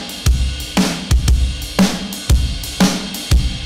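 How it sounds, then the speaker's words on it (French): A pre-processed drum kit track runs through a mixing console and patchbay, with punchy kick and snare hits alternating in a steady groove, loud and close with no voices. "Ça, c'est le son de ma batterie"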